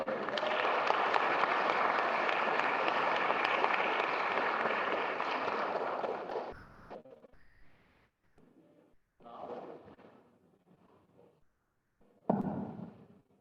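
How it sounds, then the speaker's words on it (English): Audience applause for the performers at a grand finale, loud and sustained for about six seconds before dropping off, with a few fainter bursts of clapping and noise following. "Can we have a big round of applause for all the performers today?"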